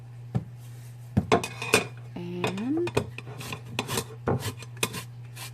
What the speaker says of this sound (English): you're going to want to grate your lemon zest